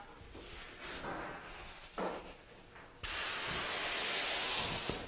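A spray gun applying a coating hisses steadily, first in a few short bursts as the trigger is pulled and released, then in one loud continuous spray near the gun, with no talking.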